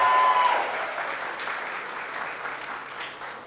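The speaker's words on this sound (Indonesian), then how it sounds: "Tepuk tangan untuk Theo Netizen." Audience applause for comedian Theo Netizen at an Indonesian open mic comedy show, a dense burst of many hands clapping that starts loud and stays steady through the clip, with no talk over it.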